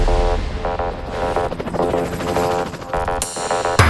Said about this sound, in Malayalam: ഇന്ത്യൻ നാവികസേനയ്ക്ക് കരുത്തു പകരുവാനായി എത്തിയ പുലിക്കുട്ടികളാണ് എം എച്ച് സിക്സ്റ്റി ആർ ഹെലികോപ്റ്ററുകൾ